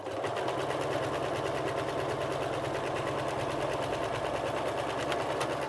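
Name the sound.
sewing machine stitching fabric gift bag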